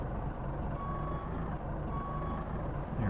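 Backup alarm of a garbage packer truck in American Truck Simulator, steady repeating beeps in two spaced bursts over a constant diesel engine drone, with a short hiss at the end.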